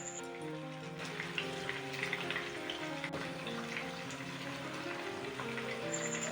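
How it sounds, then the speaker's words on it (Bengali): Pointed gourd (potol) pieces fry steadily in oil over a medium-low flame, giving a continuous soft sizzle and crackle at an even, moderate level with no break, over a faint background hum. "মিডিয়াম টু লো ফ্লেমে বেশ কিছুক্ষণ সময় ধরে ভেজে নিতে হবে"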